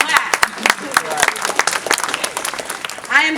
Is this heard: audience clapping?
yes